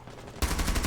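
A sudden burst of loud, rapid gunfire breaks in partway through during a Rainbow Six Siege match, close and continuous to the end after a quieter game-ambience lead-in.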